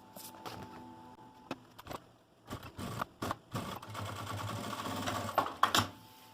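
A sewing machine topstitches close along the edge of a fabric pouch with a clear vinyl window, running in short stop-start bursts of whirring stitches with clicks and handling noises between them.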